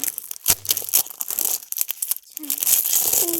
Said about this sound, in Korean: 포카부터 뜯어볼게요.